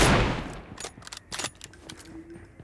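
Sniper rifle fire from an M24 in PUBG Mobile: a loud sharp shot at the start, then a few fainter distant crack-like shots with a decaying tail.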